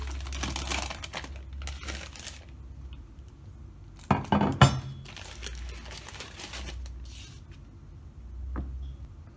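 A knife cuts through set coconut ice in a kitchen, giving soft scraping and crisp crunching strokes that rise to a sharper cluster of cuts midway, close and quiet with no talk.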